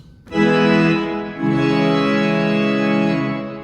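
A pipe organ, a four-manual 65-rank Schoenstein, plays its full great chorus in full, sustained chords, loud and rich with bright upper pipes, shifting once to a new chord before slowly fading.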